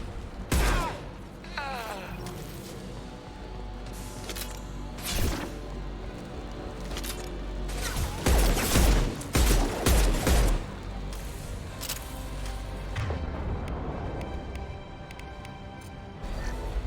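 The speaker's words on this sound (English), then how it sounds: "Firing a high-impact shot!" Gunfire and impacts in a Mass Effect 2 firefight: several sharp, loud shots and crashing blasts, a dense burst of rapid fire in the middle, alongside whooshes and battle noise.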